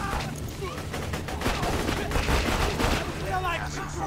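Pistol shots in Borderlands 2, fired in a dense rapid string, loud and close over busy combat noise throughout.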